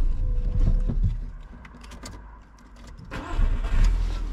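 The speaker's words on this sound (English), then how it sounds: "then the engine started working again" Car engine on a hillside road near San Juan de la Rambla, Tenerife, cranking and catching after a brief lull, then firing up louder into a rough close idle with mechanical clatter.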